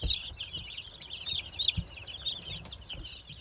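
Baby chicks peep continuously in a busy chorus of high, thin cheeping, close by, with faint soft bumps beneath and no speech.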